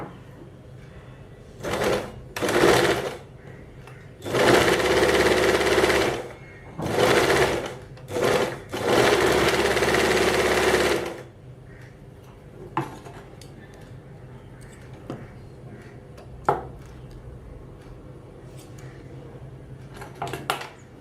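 A domestic sewing machine stitches a blouse back piece along a marked dart line in several short bursts of whirring, then falls to a quiet room with faint handling clicks.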